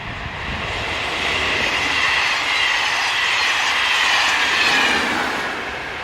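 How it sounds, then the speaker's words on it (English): A southbound passenger train from Dijon to Lyon rolls past on the Mâcon to Chalon-sur-Saône main line in France, pushed by an electric locomotive at the rear: a loud, steady roar of wheels on rail with a rising and fading hiss, no voices. "Heading south is the 1440 from Dijon to Lyon, with locomotive number 22271 in charge on the rear."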